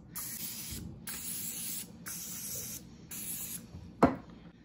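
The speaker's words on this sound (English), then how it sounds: "I'm going to spray my muffin pans" Four short bursts of cooking spray onto muffin pans hiss in a regular rhythm, close by, followed by a sharp clatter at the end.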